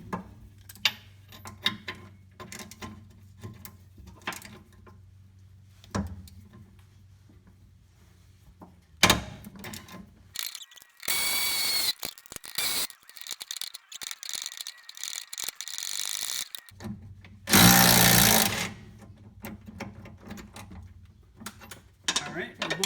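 A ratchet wrench clicks while loosening a 17 mm rear shock bolt on a 2007–2013 Mazda CX-7, bursts of close ratcheting separated by quieter stretches, with someone talking at times.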